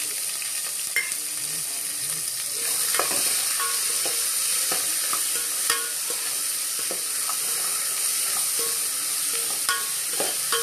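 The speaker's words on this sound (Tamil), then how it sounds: "பச்சை மிளகாவும் வெங்காயமும் போடும்." Green chillies and onions sautéing in oil for an egg gravy, a continuous close sizzle with scattered spoon scrapes and taps against the pan, no one speaking.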